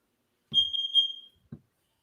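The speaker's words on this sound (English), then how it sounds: "Till my alarm goes off." An alarm goes off with one close, high-pitched electronic tone lasting under a second, followed by a short soft thump, otherwise quiet.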